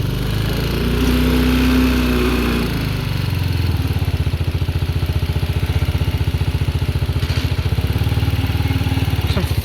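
A Chinese 250cc ATV engine, just fitted with a new battery, carb and oil, idles with a fast, even putter and clatter, loud and close, after a brief higher rev at the start.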